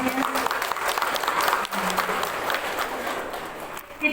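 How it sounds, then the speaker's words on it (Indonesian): Brief audience applause after a parenting talk, a moderate clatter of clapping lasting a few seconds with faint voices mixed in. "tepuk tangan semuanya"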